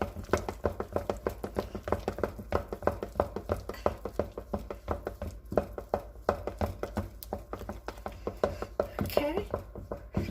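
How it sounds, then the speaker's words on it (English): A whisk or spoon beats egg batter vigorously in a bowl, producing a fast, steady stream of rhythmic taps and scrapes, close and moderately loud, with a person talking over it. "I'm blending in real well, vigorously, stirring vigorously."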